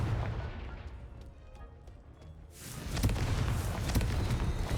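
A Confringo blasting spell erupts in Hogwarts Legacy, a broad rumbling explosion that swells after a quieter stretch and rolls on with crackling bursts, alone with no talk.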